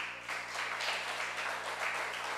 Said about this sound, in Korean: 저렇게 박수 한번 치세요